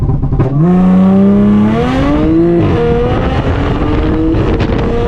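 An Audi S4 with 430 horsepower and all-wheel drive launches hard from a brake-and-gas start, its engine note climbing loud and close through rising revs, a brief dip suggesting a gear change, then pulling strongly again, with wind rushing throughout.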